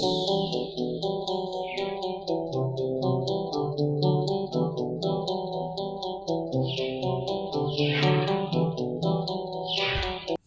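Bollywood-style sampled loop arranged with sustained chords and a counter melody on top, built in FL Studio; dense, continuous layered music playing steadily at an even level with no voices.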